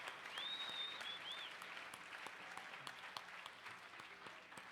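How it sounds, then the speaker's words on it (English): Audience applause at a 4-H camp speech, a steady wash of clapping from a seated crowd that holds for several seconds and slowly thins toward the end, with a brief high whistle early on. "So why don't we do another round of applause for all those individuals who have helped make this happen."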